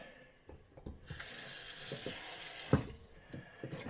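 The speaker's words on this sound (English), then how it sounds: "we're going to just filter in some Brita and see what Brita water, a new Brita filter, does." Tap water trickles and pours through a new Brita filter into a clean glass, a soft, close running-water hiss broken by a few light clicks and taps, fairly quiet throughout.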